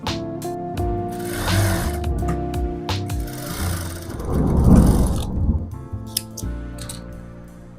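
A sewing machine stitches along the side seam of a frock. The mechanical whir runs in short bursts with brief pauses and builds to a denser, louder run midway. There is no talking.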